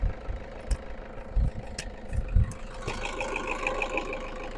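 A Toyota Innova 2.5 diesel engine idles steadily at a moderate distance, with a few low knocks and clunks early on and a faint whine joining later.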